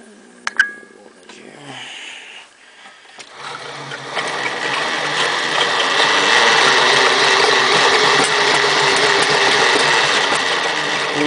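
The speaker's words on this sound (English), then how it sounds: "I'm going to turn the pulley." A 3-phase alternator is cranked by hand through its pulley, starting with a few clicks and knocks, then settling into a steady whirring hum that builds and holds, close by.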